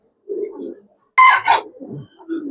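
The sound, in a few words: Lal Patti pigeons cooing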